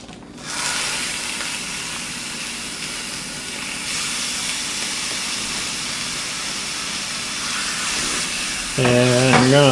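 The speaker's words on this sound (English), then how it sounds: "now I'm going to fry up some 1 pound of hamburger" A pound of ground hamburger fries in a pan with a constant loud hiss and sizzle that starts abruptly and holds steady, with a voice starting to speak at the very end.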